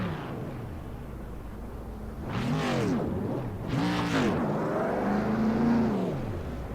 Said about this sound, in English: there you'll see Tanner Cook come for a little victory burnout here in the front stretch